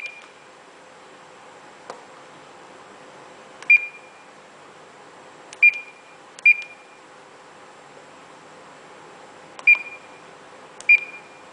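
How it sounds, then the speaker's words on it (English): Short electronic alarm beeps from a ship's GPS unit on the bridge signalling arrival in a set zone, sounding as six separate bright beeps at irregular intervals over a quiet background hum. "The alarm will be released if own ship enters the circle."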